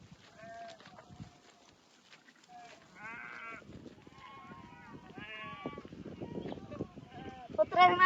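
Sheep bleating in a remote mountain pass, several wavering calls from multiple animals, quiet at first then louder and overlapping toward the end, with horses and dogs nearby.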